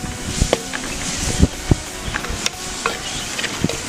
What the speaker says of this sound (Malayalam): ഇനി ഒന്ന് വഴറ്റിയെടുക്കാം.